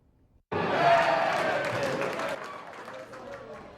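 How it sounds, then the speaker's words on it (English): Basketball fans watching an MSUM Division II tournament game at a Buffalo Wild Wings burst into sudden loud cheering and applause that starts abruptly and then tapers slightly while staying lively, with voices mixed into the crowd noise. "Dragon fans were on fire tonight, cheering very loud and proud for their MSUM basketball team"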